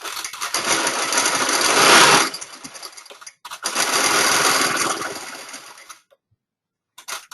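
Longarm quilting machine stitching along a ruler on a quilting frame: a dense, rapid mechanical whir in two close bursts, followed by silence and a brief final start.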